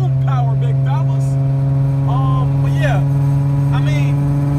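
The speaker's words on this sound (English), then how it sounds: "everything from my exhaust sounds different in a good way" A tuned Infiniti G35 coupe's exhaust holds a steady, loud low drone throughout, with someone talking over it.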